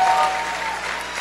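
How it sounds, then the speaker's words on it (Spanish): Church congregation applauding during a worship service, a short burst of steady clapping filling the room for about a second. "Dale un aplauso fuerte al Señor."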